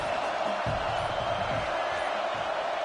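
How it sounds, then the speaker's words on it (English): A football stadium crowd roars steadily behind the defense on a third down in a Michigan Wolverines versus Michigan State Spartans game, a dense, constant wall of cheering noise throughout. "Big 3rd down as the crowd gets behind this defense."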